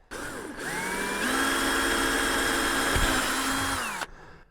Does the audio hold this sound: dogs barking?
no